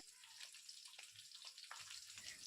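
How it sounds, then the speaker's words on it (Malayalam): Sliced onions with chopped garlic, slit green chillies and salt sautéing in a pan, a faint steady sizzle and crackle with light stirring scrapes. "നമുക്ക് ഈ സവാള നന്നായിട്ടൊന്ന് വഴറ്റിയെടുക്കാം"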